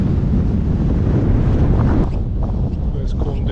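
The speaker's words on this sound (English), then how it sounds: "The wind is nuts." Strong wind on Pen y Fan mountain buffets the microphone with a loud, continuous, roaring rush that stays steady throughout, with brief gusty swells and no clear talk over it.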